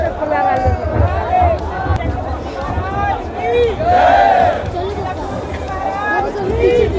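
A large nighttime crowd at the Mahakumbh Mela in Prayagraj, near the bathing area, makes a loud, dense hubbub of voices, shouts and chatter that continues throughout.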